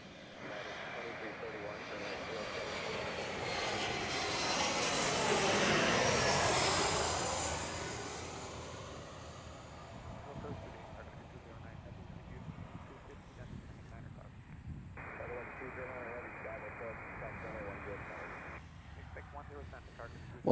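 An Embraer E175 airliner arriving at Chicago O'Hare during stormy weather, its engine roar swelling to a broad peak as it passes, then fading, with a voice talking over it and a brief radio transmission later on.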